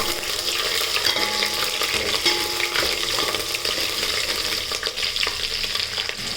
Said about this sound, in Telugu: కట్ చేసి పెట్టినటువంటి ఆనియన్స్ అందులో వేద్దాం వేసి బాగా రోస్ట్ చేద్దామండి